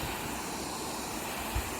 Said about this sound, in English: I'm guessing that is the main spillway